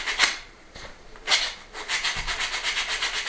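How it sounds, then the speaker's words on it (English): A piece of wood has its edges rounded with sandpaper by hand, a few separate scrapes followed by a quick run of even back-and-forth rubbing strokes, close and fairly quiet. "I'm just going to round the edges off a bit with the sandpaper"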